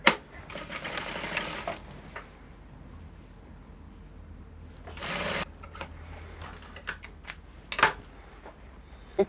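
A sewing machine stitches the lining of a corset dress in short bursts: a longer run of rapid stitching at the start, then a brief burst midway and a few quick clicks and taps near the end, with quiet between.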